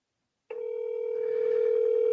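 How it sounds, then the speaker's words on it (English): A phone call rings after half a second of silence, a steady electronic tone with harmonics that holds and grows slightly louder, heard alone. "Somebody keep blowing up my phone from Florida."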